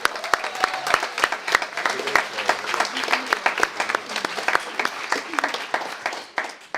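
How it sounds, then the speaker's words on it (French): Audience at a parliamentary debate final applauding, a close, lively burst of clapping with distinct sharp individual claps standing out from the crowd, fading slightly at the end. "Est-ce qu'on peut les applaudir ?"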